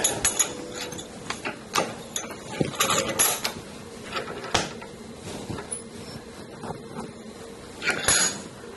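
A Sheridan Streak air rifle being pumped, a series of metallic clacks, ratcheting clicks and hard knocks from the pump arm at an uneven pace, close up in a quiet room.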